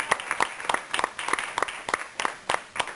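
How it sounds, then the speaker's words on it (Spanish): A church congregation at a Sunday sermon applauds in scattered, loosely rhythmic bursts of handclaps, with fairly close, distinct claps and no voices. "el pueblo de Dios le da una ofrenda de aplauso"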